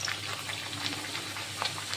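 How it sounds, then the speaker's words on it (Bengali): Peas kachori, puffed breads made with wheat flour, deep-frying in oil: a continuous, fairly quiet bubbling sizzle with light crackles throughout and no speech. "তো চলো পরপর সবগুলো ভেজে নিই"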